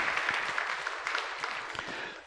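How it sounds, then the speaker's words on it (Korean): A church congregation at a Sunday service claps together, a dense, steady wash of many hands filling the room, with a few sharper claps standing out throughout. "우리 수고하는 모든 이들을 향해서 우리가 박수로 함께 좀 격려하시면"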